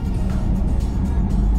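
A 750 BHP Porsche Taycan electric car on a test drive, heard as a steady low road and motor rumble from inside, with no pauses.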